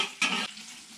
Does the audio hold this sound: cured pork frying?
yes